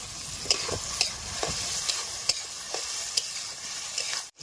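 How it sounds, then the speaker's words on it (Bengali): Onion, capsicum and garlic frying in oil in a pan, a bright continuous sizzle punctuated by regular sharp clicks of a spatula stirring, close by, ending in a sudden cut. "পেঁয়াজ, ক্যাপসিকাম, রসুন সব ভেজে নেবো তেলে"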